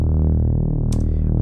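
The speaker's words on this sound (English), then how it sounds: "I put it in mono, clicking legato on, so it has that little glide in between the notes like this" A mono legato synth bass with portamento glides smoothly between notes, a loud, gritty low drone bending pitch without breaks, with a brief bright noise burst toward the end.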